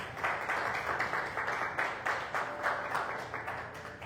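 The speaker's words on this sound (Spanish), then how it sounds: "Dele un aplauso al Señor." A church congregation claps during a Spanish-language sermon, with a lively rhythmic beat of many hands at a moderate level across about four seconds.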